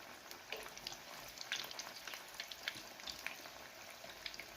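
Cheese balls fry in hot oil with a steady, bright sizzle and scattered small pops throughout, close and fairly quiet with no voices.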